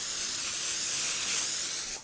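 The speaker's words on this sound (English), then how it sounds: "But we want to take some plastic wrap. We're just lightly going to spray it" Cooking spray hisses steadily for about two seconds onto plastic wrap, a close, continuous aerosol spray that cuts off abruptly at the end.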